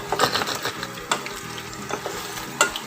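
A two-egg omelette is flipped in a frying pan, with a steady close sizzle of frying and scraping, clattering spatula sounds against the pan, no talk.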